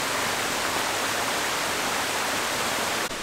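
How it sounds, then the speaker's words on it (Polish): A stream flows under a small footbridge beside a walking path, a loud, steady rushing hiss of water, close and continuous, with no voices over it. "tutaj akurat przechodzi strumień na drugą stronę, jest mosteczek"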